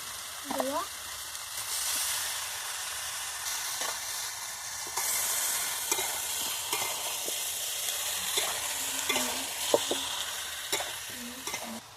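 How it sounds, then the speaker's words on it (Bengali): Papaya and chicken stir-fried in a pan in village style, with a steady sizzle and repeated scraping stirs across the whole stretch and occasional faint voices in the background. "পেঁপেগুলো বন্ধুরা আমি ভাজবো না বেশি, এর সাথে যতটা কষা হবে ওইভাবেই কষে নেবো"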